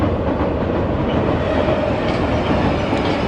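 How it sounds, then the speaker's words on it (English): An empty commuter rail train rolls steadily past nearby with a continuous rumble and faint rhythmic clatter of wheels on track. "That's commuter rail coming out of the city empty."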